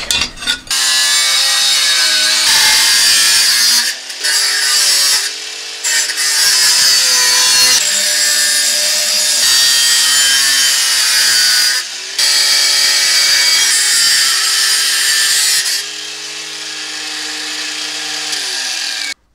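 Metal from an old rusted shovel being cut into a knife blank with a power saw, a loud continuous whining grind with brief pauses and pitch shifts as the blade bites, close up, no talking.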